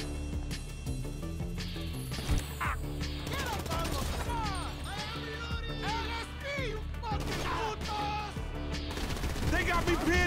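Gunfire in the video game GTA V, rapid bursts of shots and crackling volleys through a chaotic shootout, with shouting voices over the shots.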